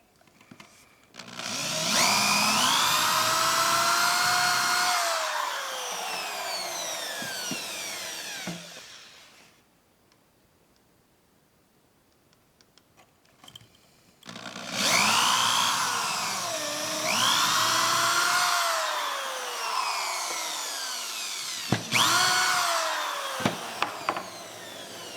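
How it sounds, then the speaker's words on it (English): A power drill bores holes in wood for a bath tray in two long runs of several seconds each, its motor whining and bogging as it cuts, with a quiet pause between them and a few short bursts at the end. "And drill them out."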